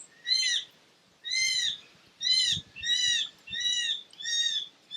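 Birds sing in six evenly spaced bursts of bright, warbling calls, fairly close and clear over a quiet background.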